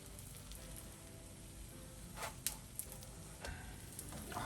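Chive parcels fry in a pan just after being flipped, giving a steady quiet sizzle with small pops and ticks scattered through it. No one speaks.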